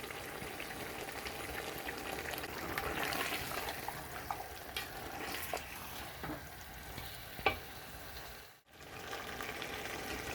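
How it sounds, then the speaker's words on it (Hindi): Garlic, ginger and chicken fry in a masala gravy in a pan with a steady, dense sizzle. A spoon stirs them now and then, making light scrapes and clinks at close range. "पाँच से 6 मिनट तक मैं इसी तरह भून रही हूँ इसे"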